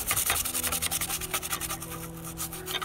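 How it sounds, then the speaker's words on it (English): A brush scrubs a Gigabyte GTX 780 Ti graphics card circuit board with petrol, making steady close scratchy rubbing strokes with no talk. "And we rub it with"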